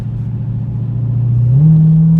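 A Dodge Hellcat in track mode accelerates, its engine note rising steadily from a low drone into a louder, higher rev, heard from inside the car with no talk.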